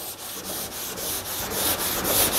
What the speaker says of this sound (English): So that's a good thing with a sanding pad, you know, and go over the whole thing.